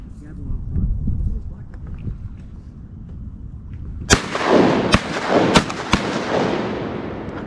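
Shotgun blasts during a duck hunt on the Atlantic Flyway, several loud sharp reports in quick succession outdoors following wind-buffeted quiet, with hunters talking around them.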